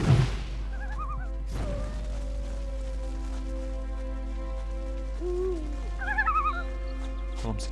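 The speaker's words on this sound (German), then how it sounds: "Warum sind hier denn Eulen?" Birdlike calls in the fantasy role-playing game Gothic 3, short warbling hoots in two bursts over a steady low hum and quiet ambient tones, moderately loud with no talking.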